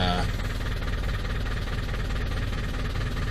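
A 2004 Vortex engine with a gutted catalytic converter idles with a steady, loud low rumble that stays constant throughout, heard close with no talking.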